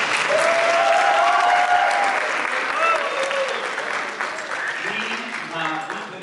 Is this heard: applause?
yes